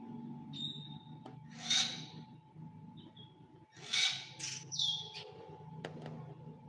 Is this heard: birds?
yes